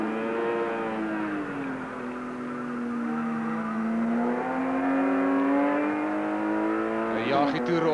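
A 2.7-litre six-cylinder racing car engine at Kyalami holds a steady, droning note that slowly rises and falls, then breaks into a rougher burst near the end.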